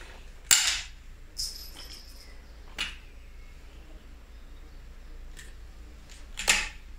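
Suppressed .22 LR rifle fitted with a Freyr & Devik suppressor, firing outdoors: a few sharp, short shots spaced several seconds apart, with quiet background between them.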